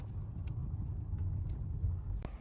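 A car idles near a Greek border customs gate in winter, a low steady engine rumble with a few faint clicks and a sharp knock near the end.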